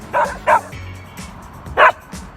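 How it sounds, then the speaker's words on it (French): A dog yips and barks in short bursts, two quick ones then a third after a pause, fairly close with a faint background hum. "juste le bruit d'un chien qui jappe."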